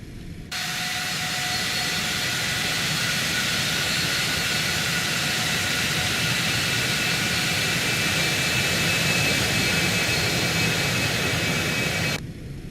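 Jet airliner engines in X-Plane 12 spool up for takeoff on the runway, a steady loud broadband roar with a thin rising whine, sustained and alone from start to finish.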